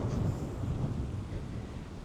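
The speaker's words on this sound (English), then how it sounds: "It's so windy." Low, rumbling wind buffeting the microphone outdoors at Village Creek State Park, Texas, steady and fairly loud, with no talking.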